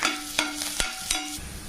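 Chopped garlic hitting hot oil in a kadai, a steady sizzle broken by a few sharp stirring scrapes, close and moderately loud, with no talking.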